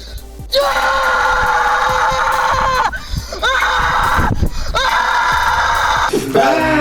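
A person imitates a Dragon Ball Z Super Saiyan power-up yell, giving loud, strained screams in several long bursts separated by brief breaths, close to the mic.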